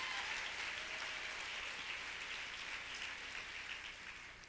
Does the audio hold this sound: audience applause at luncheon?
yes